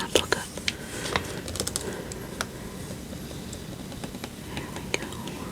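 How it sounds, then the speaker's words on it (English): A sticker being peeled off a book, soft crackly tearing and tapping sounds close up, with whispered speech over them. "The sticker's not coming off as nicely as I wanted to."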